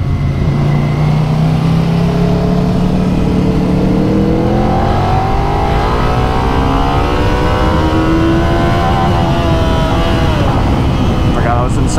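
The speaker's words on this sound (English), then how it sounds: "Forgot I was in second gear. Hit the limiter." Suzuki SV650 motorcycle engine on a racetrack, held in second gear and revving steadily higher until it bangs against the rev limiter, loud and close, with a rising whine throughout.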